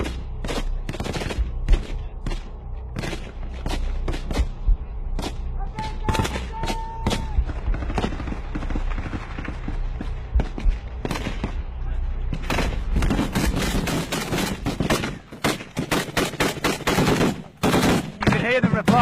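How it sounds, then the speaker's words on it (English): Gunfire exchange near a frontline farmhouse among palm groves, with repeated bursts of automatic fire and single shots cracking at varying distances, growing denser toward the end. "You can hear them replying, they're firing back towards this farmhouse."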